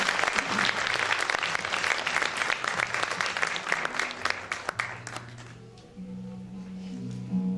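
A concert audience gives loud, dense applause as the soloist is welcomed onto the stage. The clapping fades after about five seconds and sustained instrumental tones come in.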